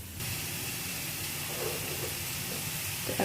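Marinated chicken fries with spice paste and curry leaves for pepper chicken, giving a steady, loud sizzle and hiss that runs unbroken with only faint shifts, no voices.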